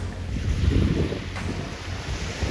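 Wind gusts buffet the microphone over the steady wash of ocean waves at a beach, a loud, continuous rumble with no voices.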